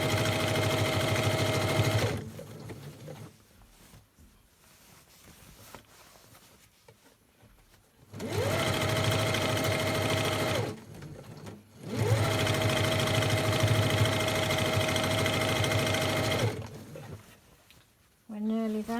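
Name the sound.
sewing machine sewing lunch bag past handles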